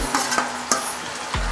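Chopped tomatoes frying in a pan, being stirred with a few soft scraping clicks over a steady low sizzle, near and fairly quiet, with no talking.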